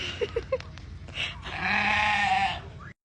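A sheep in Kenya lets out a long, loud bleat up close after a few short clicks and knocks, then everything cuts to silence.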